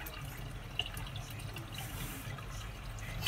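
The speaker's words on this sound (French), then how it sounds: "Il suffit de mettre un doigt à l'évier et puis ben ça coule tout seul." Water runs into a kitchen sink in a steady, soft, close stream with a faint drip-like patter, quiet and continuous for a few seconds.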